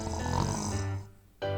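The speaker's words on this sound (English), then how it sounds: "Tiny bear. Big snores." A sleeping baby bear snores close up, one long rasping, throaty breath that drops away into a short quiet pause before the next snore begins.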